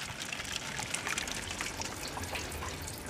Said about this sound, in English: Awesome clear wort is coming out.